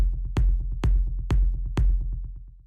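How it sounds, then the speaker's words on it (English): A rumbling techno kick drum at 128 BPM, with four hard, evenly spaced hits and a booming low tail between them, built for dark, deep techno. The kick plays loud and alone. "the first sound I have here is the kick"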